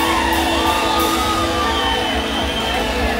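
A live concert crowd at the Fiestas Agostinas in San Salvador, shouting and cheering loudly and steadily throughout, with a sustained musical tone running under the roar.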